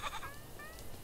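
Goat in a video game gives a short, wavering bleat, fairly faint over a soft background hum.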